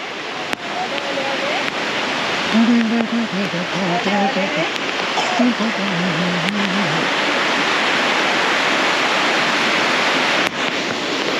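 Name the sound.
waterfall at Marleshwar temple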